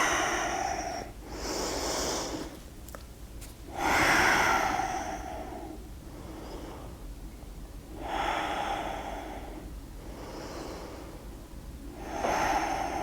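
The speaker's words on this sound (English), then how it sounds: "And breathe." Slow, deep yoga breathing, close and clear, with long audible inhales and exhales repeating in a calm, even rhythm and no talking.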